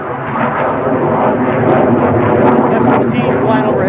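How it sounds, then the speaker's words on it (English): A loud, sustained F-16 fighter jet engine roar passes overhead, a broad rushing rumble that stays heavy throughout. "F-16 flying overhead."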